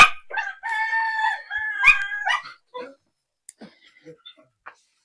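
Rooster crowing loudly and close in the Philippine countryside, one long drawn-out call followed by a few short clucks and clicks from chickens, with nothing else in the background.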